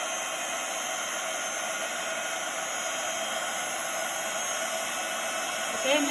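Heat gun blowing a steady, loud airy roar while melting embossing powder on a stamped snowy tree and gingerbread card, continuous throughout with no talk.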